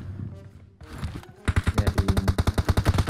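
Rapid automatic rifle fire from an M416 or SCAR-L in a shooter video game, a fast regular burst of loud close shots after quieter game sounds, with a brief spoken word early on.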